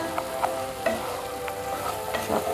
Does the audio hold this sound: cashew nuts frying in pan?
yes